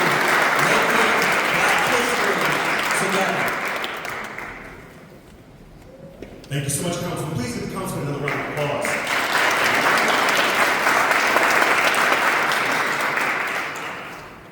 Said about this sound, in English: I just want to give a big, big round of applause for tonight's honorees